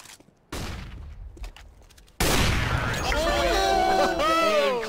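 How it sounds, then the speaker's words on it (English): A flashbang grenade goes off in a video game, a sudden loud bang that opens a dense burst of blast noise and ringing tones, preceded by quieter in-game clatter. "Flashbang."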